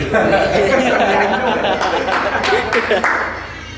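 Small crowd at a casual hangout clapping briefly, mixed with chatter and some chuckling, fairly close and loud before fading toward the end.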